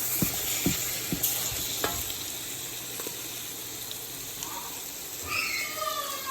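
Spinach with turkey frying in a pan, a steady sizzle broken by several sharp knocks and scrapes of a stirring utensil, close and fairly loud throughout.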